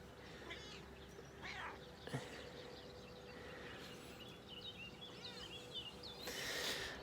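A pet cat named Safi meows several times in an outdoor garden meadow in the morning, faint and somewhat distant, with soft bird chirps in the background.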